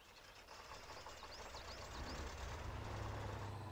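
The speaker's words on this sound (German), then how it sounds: "Motor starten." Truck engine in the off-road driving game Spintires rumbles up from idle, its low drone swelling and holding steady at moderate loudness, with faint whistly tones above and no talking.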